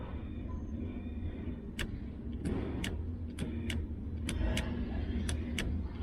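The windscreen wiper motor of a 1991 Range Rover running, heard as a low steady hum under an irregular series of sharp clicks and ticks, quiet and close, with no talk.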